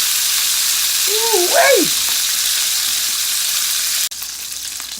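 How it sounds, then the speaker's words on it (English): A sirloin steak sears in a cast iron pan with a loud, continuous hiss that fills the whole clip, broken by a short spoken exclamation near the start and a sharp click toward the end. "our sirloin steak is cooking in that cast iron"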